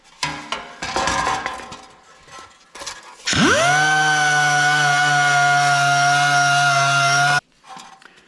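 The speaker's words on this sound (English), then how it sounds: "I'm using an orbital sander, and this is a 60 grit." An orbital sander with 60 grit paper grinds down a weld repair on air-cooled Volkswagen tinware, spinning up and holding a loud, steady whine for about four seconds after some close handling noises.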